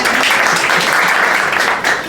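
A comedy show audience in Le Havre breaks into loud, dense, continuous applause, a close wash of clapping that holds steady throughout and eases only slightly at the very end.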